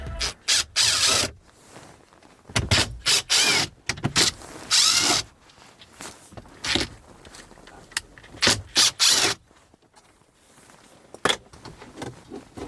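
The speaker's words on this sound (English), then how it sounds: "we have like 4 screws here that we need to unscrew" Screws are driven out of a Jeep's interior panel in a series of short whirring bursts with pauses between, plus light rattling and handling noises close by.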